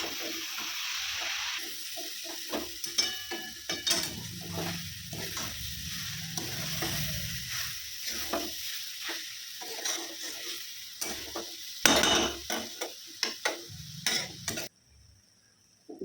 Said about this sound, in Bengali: গাজরটা আমি ভালো করে একটু ভেজে নেবো, এইভাবে খুন্তি দিয়ে নেড়ে চেড়ে।